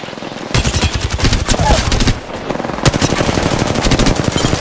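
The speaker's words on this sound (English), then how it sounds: "Shooting at me." Gunfire in Apex Legends rattles in rapid automatic bursts, loud and close, with a short pause before the fast shots start again.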